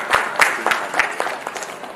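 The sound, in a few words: applause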